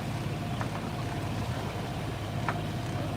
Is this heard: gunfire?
no